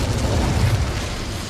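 An Incendio fire spell is cast in Hogwarts Legacy: a dense, roaring whoosh of flame bursts out at close range and holds steady for about a second and a half.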